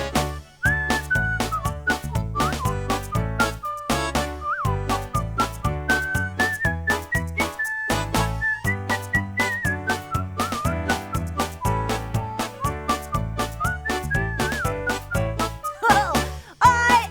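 A cheerful little whistled tune carries a bouncing melody over a steady backing track with a rhythmic bass and beat, continuing without pause for the whole stretch.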